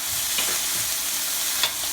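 Butter sizzling in a hot pan alongside a searing steak, a dense continuous hiss with a couple of brief crackles, close and steady with no voices.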